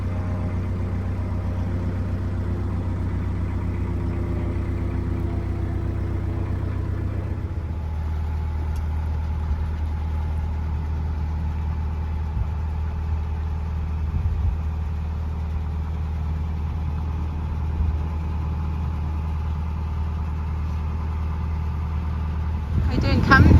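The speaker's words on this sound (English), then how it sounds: "I haven't stopped the engine yet because we've got to get in there." A boat engine idles steadily on the River Thames, giving a continuous low, close rumble with a slight shift in tone partway through and a louder noise at the very end.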